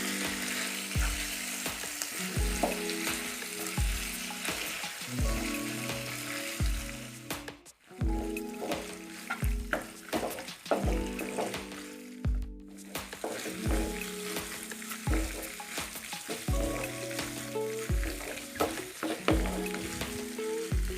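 Boiled pasta tossed with vegetables sizzles in a pan, a steady frying hiss under rhythmic scraping and clacking of a spoon stirring over and over, close up, with two brief pauses and no speech.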